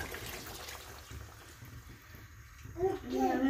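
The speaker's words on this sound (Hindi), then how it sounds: "हूँ मैं शोरबे वास्ते पानी पा देव" Water pours steadily into a cooking pot for a meat broth with liver in a home kitchen, a close, continuous splashing rush that swells louder near the end, with faint voices in the background.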